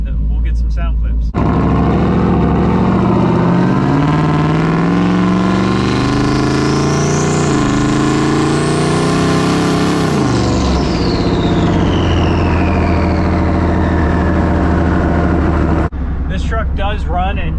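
A 2021 GMC truck with a turbocharged engine runs steadily and revs up through a long rising and falling pull, loud and close throughout, with a speaking voice picked up at the start and end.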